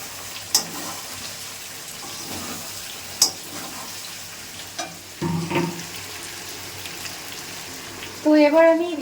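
Chopped tomatoes fry in a pan with chicken, giving a soft, low sizzle broken by occasional clinks and a couple of stirring scrapes, and a voice speaks briefly at the end.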